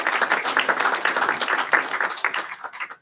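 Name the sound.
applause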